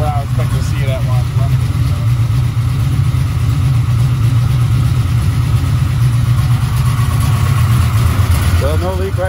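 A 1996 LT1 V8 with a Holley Terminator X runs on a test stand, a steady, loud, low rumble throughout, with people talking over the engine.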